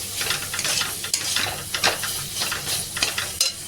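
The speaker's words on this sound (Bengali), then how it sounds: "এবার একটু ভালো করে আমি কষিয়ে নেবো" Spices sautéing in a pan on the gas, with a constant hissing sizzle and brisk stirring scrapes repeating close by, no voices.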